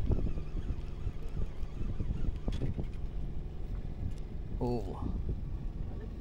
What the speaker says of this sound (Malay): Angin dah sampai.